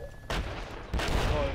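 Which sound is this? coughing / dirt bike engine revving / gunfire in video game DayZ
gunfire in video game DayZ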